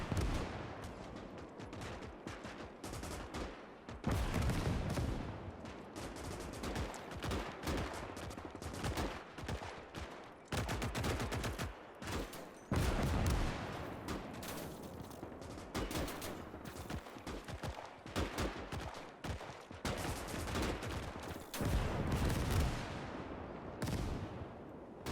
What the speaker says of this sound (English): they're starting to take a lot of small arms fire